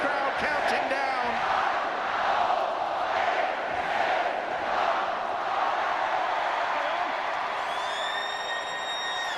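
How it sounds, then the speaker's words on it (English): A large stadium crowd at a Warrington versus Wigan rugby league match chants a countdown loudly and rhythmically, rising and falling in unison, with whistles and high cheers breaking through near the end. "Listen to the crowd counting down."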